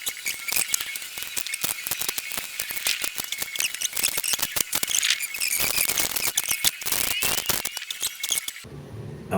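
Rapid scratchy clicking and friction as a new oil filter is screwed by hand onto the engine of a ninth-generation Toyota Corolla (2001–2007), close and continuous, then stopping abruptly near the end.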